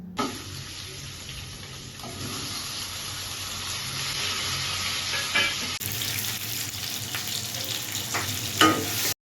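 Ginger paste and chopped tomatoes frying in a pan for a fish curry, a steady close sizzle with occasional stirring scrapes and a louder burst near the end.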